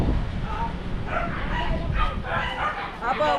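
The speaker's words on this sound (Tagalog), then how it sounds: "Yun yung aso, diba guys?" Outdoors, a dog gives a rapid series of short yipping barks at moderate distance, mixed in with people talking.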